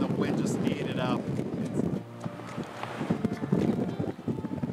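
Crosswind on the Spyglass Hill golf course at Pebble Beach buffets the microphone with a low, continuous rumbling roar that swells and eases throughout.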